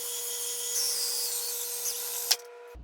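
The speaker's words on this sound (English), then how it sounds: "the next step is drilling the hole with the hole saw" A steady, high-pitched grinding whine of a hole saw cutting through a 2014–2019 Chevy/GMC truck panel for pod holes, running continuously before cutting out abruptly near the end.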